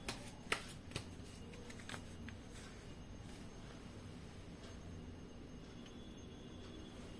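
Tarot cards being shuffled by hand, a soft, continuous riffling and rustle at a faint level, with a few sharper card snaps near the start and a steady low hum underneath.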